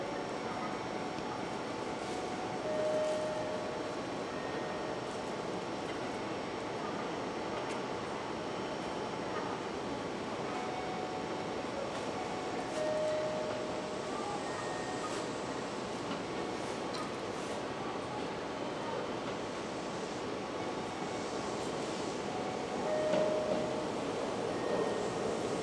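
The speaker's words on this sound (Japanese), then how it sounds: "A semi-express bound for Nagoya is arriving at track 7." A Kintetsu 2000 series semi-express train, three cars, pulls into Kuwana station on the Nagoya Line. A steady, loud rumble and hum continue throughout with faint beeping tones.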